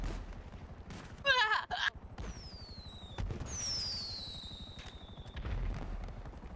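Gunfire in a roleplay video game: several rapid bursts of shots early on, followed by rising whistling streaks like fireworks or tracer rounds, heard at moderate distance over steady background game noise.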